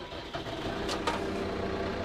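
A tractor drives slowly along vineyard rows during barrel pruning, its engine giving a steady, moderately loud rumble with a couple of brief higher rattles partway through.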